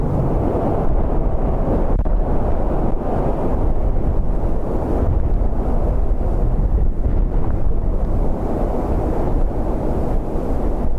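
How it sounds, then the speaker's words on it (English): Strong wind buffeting a microphone at a plane-spotting spot near Dublin Airport on a gusty day, a loud, continuous low roar without a break and with no voices. "Wind picking up again."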